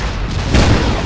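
Ship cannons firing in the game Darkfall during a naval fight, a loud, dense, booming blast that thickens midway into a heavy rumble, close and full.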